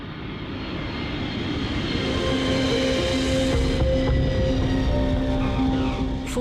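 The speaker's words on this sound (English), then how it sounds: "the VIP jet touched down at Fairburn Air Force Base" A VIP jet aircraft lands at an Air Force base, its engines a loud, sustained roar that swells and holds with a whining tonal hum throughout.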